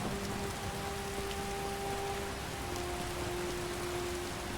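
Steady rain falls during a horseback ride in Skyrim, a dense, even hiss that continues without a break, with no voices over it.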